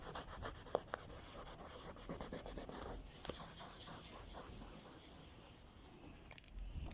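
Pencil shading on paper being rubbed and blended with a scrap of newspaper, giving soft, steady close-up scratchy rubbing strokes with a few small taps.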